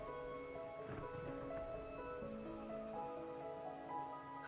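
Steady soft rain falls in the video game Wuthering Waves, a continuous patter beneath sustained musical tones, fairly quiet and even throughout.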